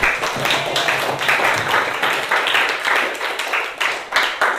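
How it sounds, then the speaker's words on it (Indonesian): Classmates in an Indonesian school lesson give a fellow student a round of applause, a dense, steady patter of many hands filling the room without a break. "Yang lain tepuk tangan dulu untuk Halif"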